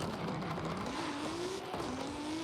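Several cars rev and launch together at a race start in Forza Horizon 5, engines climbing in pitch over a steady loud roar, with brief tire squeal; no talk over it.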